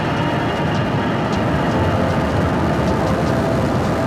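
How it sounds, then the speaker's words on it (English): A SpaceX Falcon 9 rocket lifting off on the CRS-33 Dragon cargo mission, heard as a loud, dense, continuous roar and rumble with faint crackle on top, steady and sustained throughout. "And liftoff. NASA's SpaceX's 33rd Commercial Resupply Services mission is on its way to the International Space Station"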